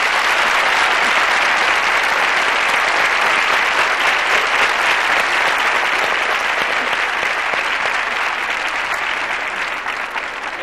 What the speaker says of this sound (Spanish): A ellos dos, un fuerte aplauso.